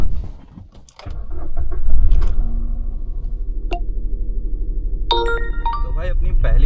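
An Ola taxi in Bhopal gets going early in the morning: a steady low engine hum inside the car, a thud near the start and a few bright electronic chime tones toward the end.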